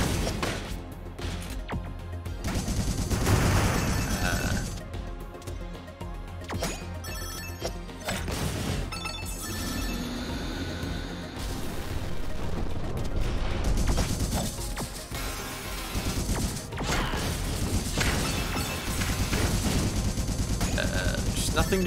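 A cannon fires repeatedly in the ship core boss fight of the video game Freedom Planet 2, with sharp blasts and crashes scattered among busy game music and effects while a voice talks over it.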